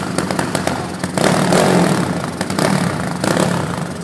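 A 351cc motorcycle engine runs on its first start, producing a loud, close, rough rumble with clattery texture and swelling revs that rise and fall over a few seconds.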